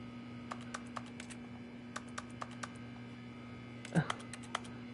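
Computer keyboard keys and mouse buttons click in scattered light taps and short bursts during play of The Stanley Parable, faint and close over a steady electrical hum.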